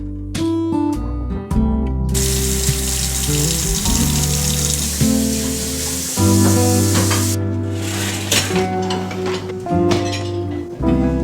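Running water splashes steadily in a home kitchen sink while dishes are washed, with frequent close clinks and knocks of plates and cutlery against each other and the basin, busy and continuous with no talking.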